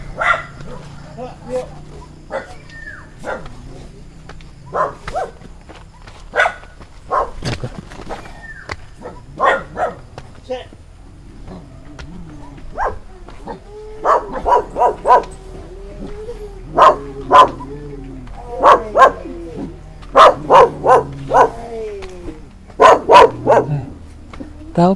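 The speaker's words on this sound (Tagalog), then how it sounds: "Maraming aso. Siguro ito yung aso ni Michelle." Several dogs bark and yip in irregular bursts, some near and some farther off, with a few whimpers, growing denser toward the end while people talk in the background.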